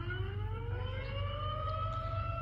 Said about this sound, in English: There's a tornado siren, which we believe is real.